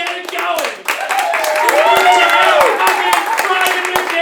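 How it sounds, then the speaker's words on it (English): A studio audience at a live late-night talk show claps steadily, with whoops and cheering voices mixed into the dense, continuous applause. "I want you to get the round of applause going"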